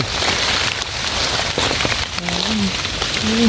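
Steady rain falls on a forest while mushrooms are gathered, a loud continuous hiss of drops with faint voices briefly in the background.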